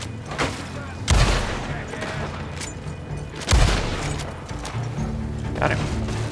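Gunshots ring out in the online western game Red Dead Online, with two heavy booming blasts over a busy backdrop of scattered shots and game noise.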